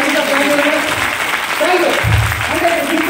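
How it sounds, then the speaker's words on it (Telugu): An audience at a Vestige business meeting claps loudly and continuously, a dense wash of applause with voices speaking over it. "ఒకసారి వాళ్ళకి జోరుగా క్లాప్స్ ఇద్దాం"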